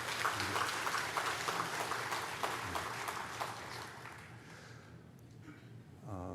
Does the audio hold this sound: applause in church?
yes